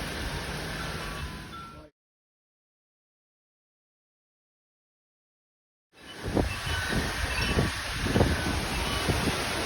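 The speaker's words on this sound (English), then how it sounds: "Big gust." Strong wind gusting during Hurricane Beryl at dawn, a loud broadband roar buffeting the microphone, which cuts out for a few seconds before the rushing gusts return with heavy low rumble.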